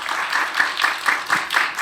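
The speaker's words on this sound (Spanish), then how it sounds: "Un aplauso, por favor." Short burst of audience applause welcoming a speaker at a talk, with rhythmic, fairly close clapping in a steady beat.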